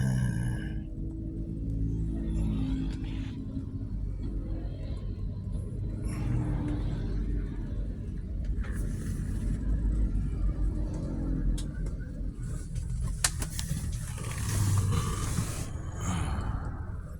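Private cars idle and move through a parking area at a Palembang outdoor exercise gathering, making a steady low engine rumble with occasional louder passes and no voices.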